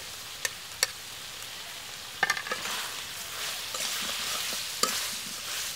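Bengali home-style chicken curry frying and being stirred in a pan after green chilies go in, a steady close sizzle with a few sharp spoon clacks against the pot, no talking.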